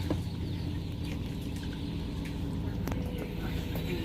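Month-old young rooster chicks in a traditional coop with a thatched roof, clucking and chirping steadily against a dense, constant background of flock noise.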